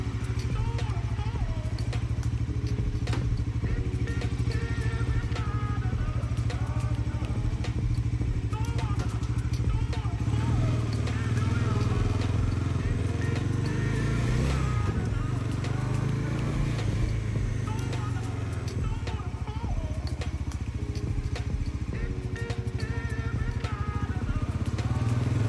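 A Bajaj Pulsar NS400z motorcycle engine runs steadily nearby, a continuous low rumble with clattering mechanical ticks and a brief swell in revs midway.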